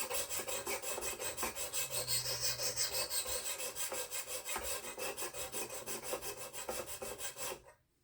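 A tanto knife blade is sharpened on a whetstone in rapid back-and-forth strokes, making a steady rhythmic scraping rasp that is close and continuous before stopping abruptly at the end.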